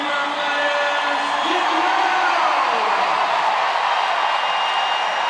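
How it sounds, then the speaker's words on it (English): Crowd cheering and roaring loudly and steadily throughout a one-point WNBA basketball game between the Indiana Fever and Chicago Sky, with an arena announcer's voice woven through the dense din. "Crowd coming alive"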